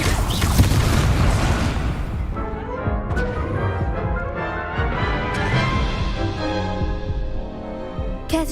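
Confringo fire spell explosions in the video game Hogwarts Legacy, booming crashes and thuds that pile up loud and dense at first, then give way to softer scattered impacts over a busy combat backdrop.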